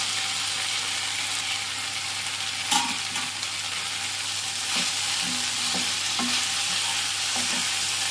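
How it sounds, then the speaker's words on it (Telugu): Okra pieces fry in hot oil in a pan, a steady close sizzle with a few soft scrapes and taps of a spoon stirring them, no voices. "చూసారా, బాగా ఫ్రై అవుతుంది."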